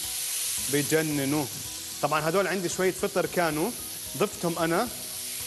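Mushrooms frying in olive oil with lemon and garlic, a soft sizzle running beneath a person talking throughout.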